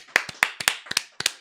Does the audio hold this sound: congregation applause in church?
yes